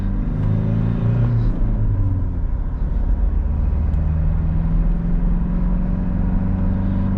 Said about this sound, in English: Power mode is on. I'm on the second gear and maintaining RPM, and let's floor it in 3